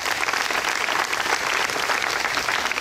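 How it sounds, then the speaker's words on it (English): Sustained, dense applause from the audience at a Muttontown swearing-in ceremony, a full and even round of clapping filling the room without pause. "I want to give you a round of applause."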